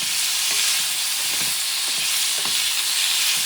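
Bison meat browning in a hot pan for a spicy stew gives a steady, loud sizzle throughout, with occasional soft scrapes and stirring clicks from the pan.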